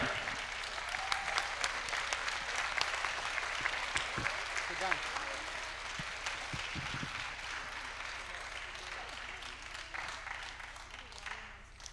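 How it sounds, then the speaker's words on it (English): Sustained audience applause at the IBBY-Asahi Reading Promotion Award Ceremony during the 38th IBBY World Congress, a dense steady clapping that fills the whole stretch at fairly even loudness, with a few sharper claps and faint voices in the crowd beneath. "Everybody clap for you, right?"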